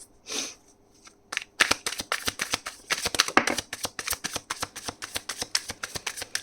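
Tarot cards being shuffled from a deck: a quick run of crisp, close riffling snaps and slaps in an uneven rhythm, repeating for several seconds with no voice.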